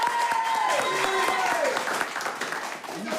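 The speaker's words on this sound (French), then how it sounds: "Merci, applaudissez-le." Applause from a political-comedy audience, a steady crowd-wide clatter that stays fairly even throughout, with voices talking and calling out over it.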